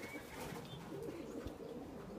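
A prize-winning racing pigeon coos softly in a loft, a low, faint murmuring call under quiet background noise.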